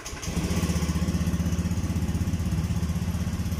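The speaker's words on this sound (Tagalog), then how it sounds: "Ayan, maandar na yung motor natin." A Honda Beat FI V2 scooter engine idles steadily nearby after being started, a low, even putter with a regular pulsing rhythm throughout, no talking.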